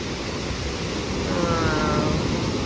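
Strong ocean surf washes in at Lio Beach, El Nido. It makes a loud, continuous roar of breaking waves, with some wind noise against the microphone.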